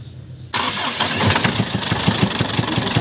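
An Isuzu 4BC2 diesel engine, not yet tuned up, is heard from a brief quiet: it cranks and catches at once, then settles into a loud, rough idle with a rhythmic knock.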